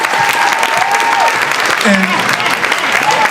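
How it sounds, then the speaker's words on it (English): A loud burst of crowd applause for the DJs at an event, dense clapping throughout with voices talking and calling out over it. "Hey, give the DJs a round of applause."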